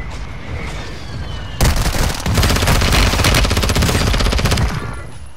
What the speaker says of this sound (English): Mortar support incoming!